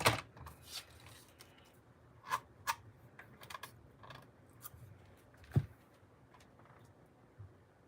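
A paper piece for a handmade card being die cut, scattered crisp clicks and crunches with a few sharper snaps, close but fairly quiet, no talk.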